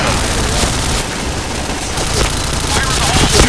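A Kriss S.V. Sakura gun firing rapid, loud bursts of shots that run together into a continuous dense roar from start to finish, with no clear pauses.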